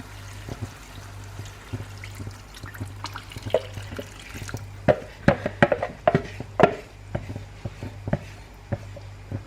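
Beef stock made from an OXO cube pours and trickles into a pan in a series of splashy, uneven bursts over a low background hum, with no talking.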